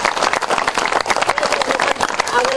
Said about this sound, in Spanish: Entonces, hay aplauso.